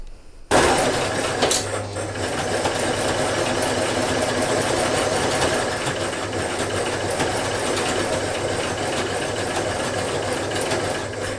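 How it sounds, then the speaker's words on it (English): A sewing machine stitches close to the fabric edge of a babydoll top's elastic casing. Its loud, even motor whir starts abruptly after a short silence and runs continuously to the end. "I'm going to go and just stitch along here, really close to the edge"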